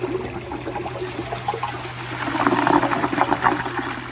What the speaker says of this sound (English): So I'm gonna go ahead and turn it back up a little bit and flush it again.